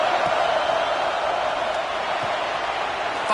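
Stadium crowd in an NCAA 26 college football video game, a steady broad roar of fans filling the background without a break.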